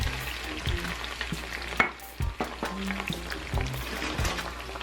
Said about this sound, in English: now that this butter is melting, I'm going to put my onions and green peppers in the pot